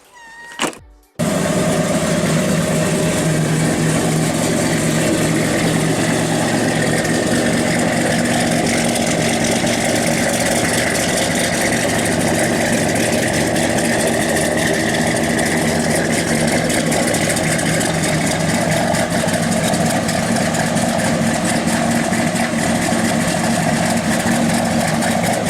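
An LS-swapped box Chevy Caprice engine cranks briefly, catches and settles into a loud, steady, rumbling idle that runs unbroken for over twenty seconds.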